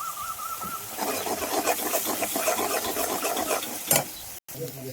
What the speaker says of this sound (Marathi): गोबी टाकून देतो आता आपल्या फोडणीत नेऊन परतून घेतो